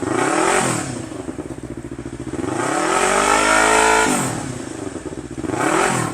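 A 2015 Yamaha YZF-R3 sport motorcycle exhaust revs up and down repeatedly to 5000 rpm, rising to a loud, rasping roar and falling back to a rumbling idle, close by.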